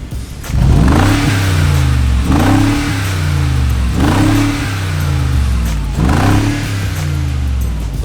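A black Mercedes G550 fitted with a custom exhaust system and custom tips revs hard in repeated throaty bursts, about four pulls rising and falling, loud and close with no talking.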